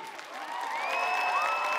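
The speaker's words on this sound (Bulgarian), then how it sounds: "Искам да чуя вашите бурни аплодисменти за целия екип на телевизия Планета." A concert audience at the 16 years Planeta TV celebration breaks into applause, swelling from a light patter to a sustained roar with some whistling and cheering mixed in.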